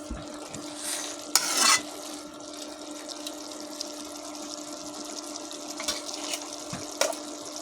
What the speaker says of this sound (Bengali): তরকারি আমি আবারও নেড়ে দিলাম।